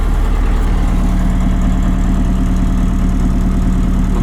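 Trackless MT5 tractor engine after a cold start, idling loud and close with a steady low rumble and slight knocking, no other sounds.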